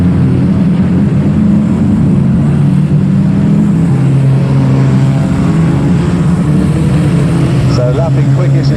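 Race cars lap a raceway track at Aldershot, their engines a steady loud droning roar that holds throughout, with a commentator's voice running continuously over the noise.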